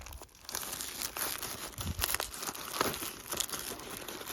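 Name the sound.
plastic document file sleeve being handled and put into a messenger bag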